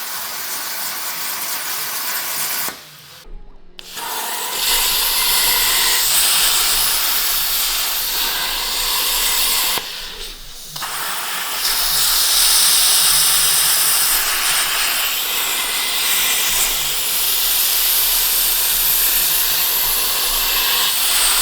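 A CNC plasma table cutting a test piece of exercise material on its bed, a loud, steady hissing rush of the torch running continuously, with two brief dropouts where the cut pauses and then resumes.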